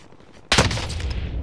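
Gunfire in an online shooter game bursts in suddenly after a quiet stretch, a loud close volley of shots followed by a ringing, echoing tail.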